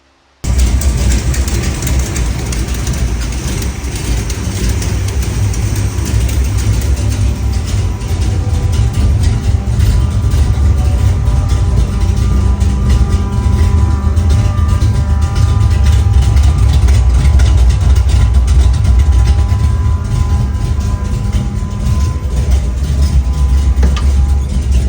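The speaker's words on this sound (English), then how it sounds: "I'll show you guys the car running here in a minute." A Dodge Dart engine runs with a newly installed Summit electric fuel pump, a steady low rumble that holds close and loud for the whole stretch with no pauses.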